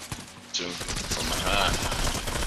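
Rapid automatic gunfire in Fortnite Chapter 4 Season 4, a dense burst of shots close and loud, with voices talking over it.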